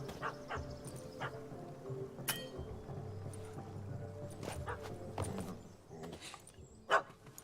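A dog barks in The Witcher 3 video game, amid hoof clopping, ambient game sounds and a sharp bark near the end, at moderate distance.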